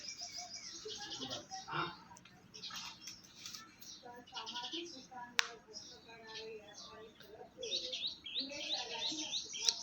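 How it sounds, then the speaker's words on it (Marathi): Birds chirp and tweet near a tulsi plant beside mango and sapodilla trees during Gudi Padwa prayers. The calls are light and scattered, fairly close, and a voice is heard faintly at times. "पक्ष्यांचा आवाज छान वाटत होतं"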